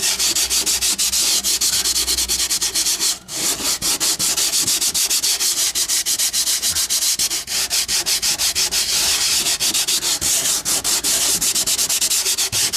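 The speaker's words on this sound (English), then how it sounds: "you can have a P100 sandpaper first to remove all the big stuff" P100 sandpaper being rubbed over a patched hole in a hollow wooden door, giving continuous, close, gritty scratching strokes in a fast steady rhythm for the whole stretch, with no voices.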